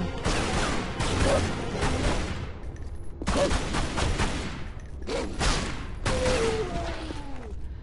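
Gunfire from the video game Tomb Raider Anniversary sounds as loud, dense bursts of rapid shots in several volleys with brief gaps, with faint game sound effects underneath.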